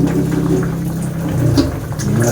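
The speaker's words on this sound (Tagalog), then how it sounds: "Lagyan natin ng tubig." Water poured into a small banana ketchup pouch, a loud, close, continuous gushing and splashing that lasts the whole moment without any talk.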